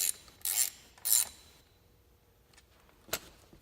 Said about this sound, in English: Tighten down the coil.